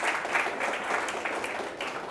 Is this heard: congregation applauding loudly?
yes